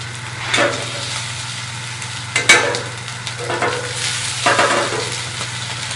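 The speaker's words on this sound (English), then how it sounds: "So now we're going to saute this up." Chicken pieces sauté in butter in a pan, a moderate sizzle under a steady low hum, broken by several scraping stirs and a sharper clatter, nearby and without talk.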